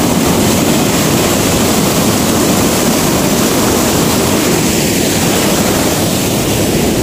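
A river with a waterfall gives a loud, steady, broadband rush of falling water with no pauses, close and dominant throughout.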